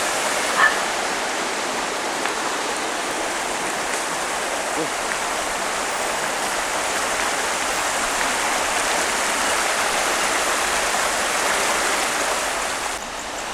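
Water rushes from a pipe on a mountain trail in Alhaurín el Grande, Spain, loudly and steadily, a dense continuous roar with no pauses, heard up close throughout.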